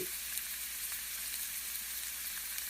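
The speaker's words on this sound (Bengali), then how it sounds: "এখন ঝিঙে আর বেগুনটাকেও ভেজে নেব" Ridge gourd and eggplant pieces frying in oil, a faint, steady sizzling hiss throughout with no talking.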